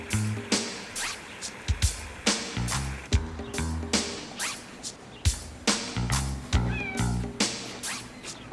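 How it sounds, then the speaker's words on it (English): A cat meows repeatedly in an irregular run of close, fairly loud calls, some stretched into drawn-out wails, with no talk over them. "Oh, hey, Kitty."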